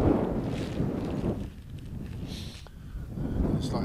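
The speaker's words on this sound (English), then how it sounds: "Got a bit of a wind today" Gusty wind buffets the microphone on open Dartmoor moorland at the Drizzlecombe stone complex, a continuous low rumbling roar that eases briefly in the middle and then swells again.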